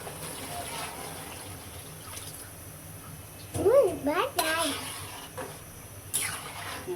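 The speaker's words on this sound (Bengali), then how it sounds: "এখন পরিমাণ মতো পানি দিয়ে দিই।" Water is poured into a pot of bottle gourd and shrimp curry, a soft gushing splash that rises briefly mid-clip over a quiet kitchen background, with a short voiced sound near it.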